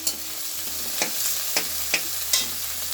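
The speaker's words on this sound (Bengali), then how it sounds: "এবারে চিংড়িটাও দিয়ে দিচ্ছি, খানিকটা মিক্সড রাইসের মতনই হবে।" Prawns go into a kadai with chicken and masala for Bangladeshi kadai chicken, a steady close sizzle punctuated by four sharp utensil scrapes against the pan, with no talking.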